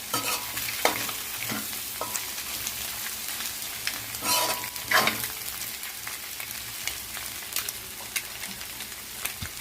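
Cabbage frying in a pan for egg fried rice, a steady soft sizzle with occasional scrapes and stirring clatters, close and alone.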